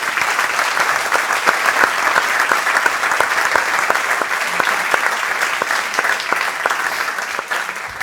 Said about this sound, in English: Another applause for Mariama